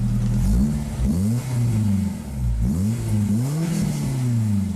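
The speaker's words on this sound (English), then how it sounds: "Give it a little rev." A Honda S2000's VTEC engine is revved repeatedly up close, its pitch climbing and dropping in several quick blips over a steady idle, loud and alone with no talk.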